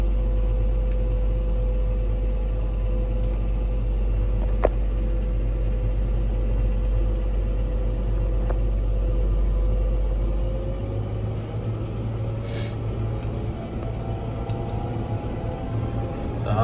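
A Fendt tractor drives with its implement lowered: a steady, deep engine rumble and drone close in the cab, easing slightly partway through, with a few faint clicks and no talking.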